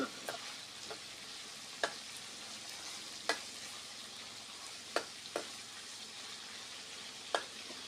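Pork frying with garlic in a pan, with a faint, even sizzle broken by a handful of sharp, isolated utensil taps spaced a second or two apart.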